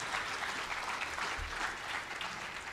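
An audience claps in steady applause at a White House arts event, a dense, even patter that holds for a few seconds.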